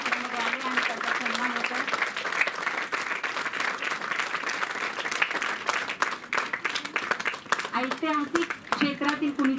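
Sustained applause from a large audience, a dense roar of clapping heard under someone speaking over a microphone.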